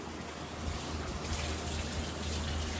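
A continuous rush of pouring water, loud and close, steady for the whole stretch with no pauses.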